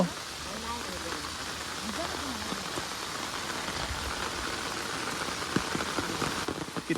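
Downpour of heavy rain beside a swollen, flooding river: a dense, continuous roar of drops, close and loud throughout, with voices talking faintly underneath.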